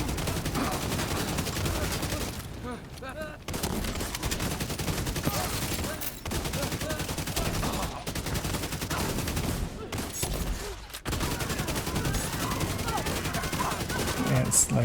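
Sustained bursts of rapid gunfire from the Fire Eclipse gun in a video game, loud and dense across the whole stretch with a few brief pauses and some speech mixed in.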